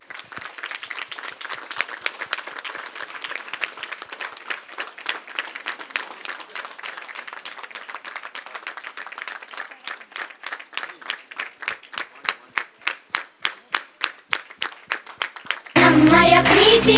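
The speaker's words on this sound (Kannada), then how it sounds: "ನಿಮಗಿದ ಗೌರವ ಚಪ್ಪಾಳೆ" An audience applauds at a Bangalore main-stage event. Loose clapping gradually settles into loud rhythmic clapping in unison, and a sudden fuller, louder burst of sound comes at the very end.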